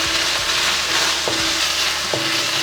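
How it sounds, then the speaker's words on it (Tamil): Onion sautéing in a pan with ginger and dried red chilies for a ground chicken curry, a steady close sizzling hiss with a few soft spatula strokes scraping through it, no voices. "கொஞ்சம் வதக்குவேன் நல்லா."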